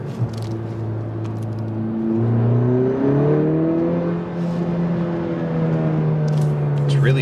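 A 2020 Honda Civic Si engine revs, its steady drone climbing and holding pitch as the revs hang, then rising again, heard from inside the car with road and interior noise, moderately loud throughout.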